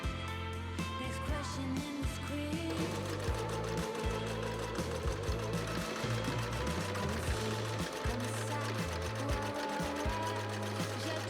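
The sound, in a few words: sewing machine top stitching a bodice placket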